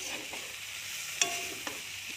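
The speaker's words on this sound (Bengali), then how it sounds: "হালকা হিট দিয়ে আস্তে আস্তে ভালো করে অনেকক্ষণ ধরে ভেজে নেব।" Bitter gourd and potato fry over low heat with chilli and turmeric powder, giving a steady soft hiss broken by a couple of brief scraping stirs.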